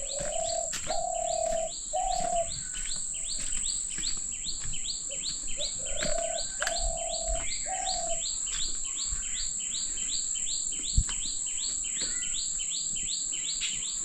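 A spotted dove's soft repeated cooing phrases, heard twice, over a steady high insect drone and rapid bird chirps in the background.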